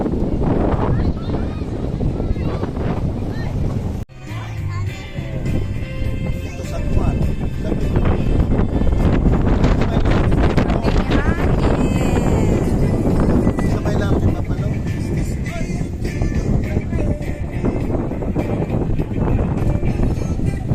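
Strong wind at the sea buffets the microphone in loud roaring gusts, with voices talking underneath throughout.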